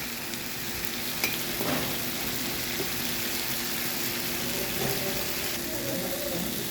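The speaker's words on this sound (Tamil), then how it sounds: "உப்பு சேர்த்து ஒரு கிண்டு கிண்டுங்க." Tomato and onion with salt frying in a pan give a steady close sizzle, with a few faint stirring scrapes and taps over the constant hiss.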